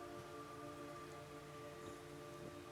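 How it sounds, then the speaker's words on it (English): Rain falls steadily in Metal Gear Solid 3: Snake Eater, a faint, even hiss with a low tonal hum beneath it that holds unchanged throughout. "It's raining blood."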